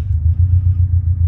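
A vehicle engine idles with a steady low rumble right after starting on a cold, snowy day in Massachusetts, loud and close with a gently pulsing rhythm.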